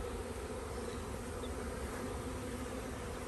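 Dense, continuous buzzing of many Saskatraz honeybees around hives at an apiary, a steady close drone with no voices.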